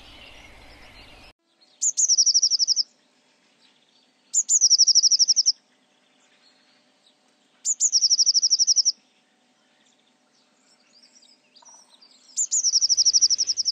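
A blue tit calls in winter, giving four separate bright, high trilling phrases spaced a few seconds apart, clear against near silence after a brief noisy start.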